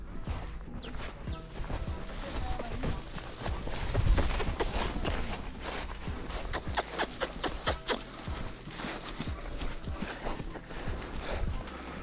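Horse hooves clip-clop in an uneven walking rhythm, close by, with scattered bird chirps in the background.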